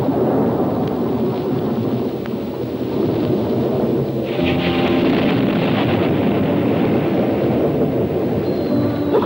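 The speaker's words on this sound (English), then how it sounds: "Looks like a storm brewing." Rumbling thunderstorm effect from a 1965 science-fiction film set on Mars, a continuous dense low roar with rolling swells, loud and sustained throughout with no break.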